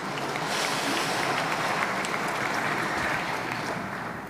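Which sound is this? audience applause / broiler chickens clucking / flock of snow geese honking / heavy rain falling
audience applause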